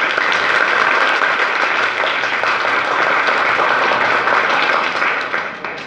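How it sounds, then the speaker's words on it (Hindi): A school audience of students claps after a student's poem, a loud, close, continuous burst of many hands that fades near the end. "क्लैपिंग्स।"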